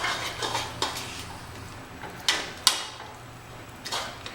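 A spoon stirs thick mutton haleem paste of meat and lentils into masala in a metal pot, giving scattered sharp clinks and scrapes against the sides over a soft, low background.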